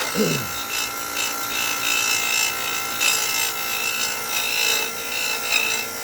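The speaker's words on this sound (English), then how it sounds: "put it on a wire wheel and, you know, taking the rust off" Wire wheel grinding rust off a farm frost-free hydrant, a continuous harsh abrasive whirring scrape held close and steady for several seconds after a brief spin-up.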